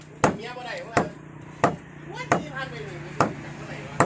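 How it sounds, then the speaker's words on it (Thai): A knife chops raw pla yi sok fish for laab on a kitchen board with sharp, steady, evenly spaced whacks, about six strokes, close and loud, with faint tonal sounds between them. "ตอนนี้พ่อสับอยู่"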